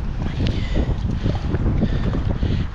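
Wind blowing outdoors while trout fishing, a loud, steady rumbling buffet against the microphone with no gaps throughout.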